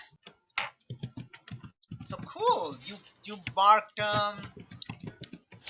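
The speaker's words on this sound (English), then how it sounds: "someone is typing very ferociously" Rapid clicking of keys on a computer keyboard in quick bursts, with a voice speaking over the typing.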